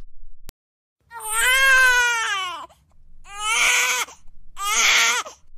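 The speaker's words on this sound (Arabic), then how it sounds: "كان في صوت بكاء طفلة رضيعة" Infant crying as a sound effect in a narrated story: three long wailing cries with falling pitch, loud and close, after a brief click and a short pause.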